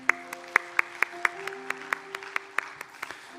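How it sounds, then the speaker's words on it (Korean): A congregation at a Korean church Sunday service claps in a steady, evenly spaced beat, roughly three or four claps a second, over sustained keyboard chords in the background. "우리의 예배 가운데 함께 하시는 하나님께 우리 감사의 박수 올려드리겠습니다"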